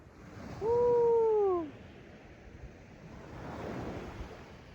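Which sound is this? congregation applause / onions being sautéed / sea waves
sea waves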